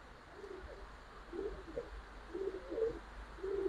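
Giribaz pigeons at a pigeon farm give soft, low, repeated cooing phrases at a moderate distance, spread across a quiet background hum.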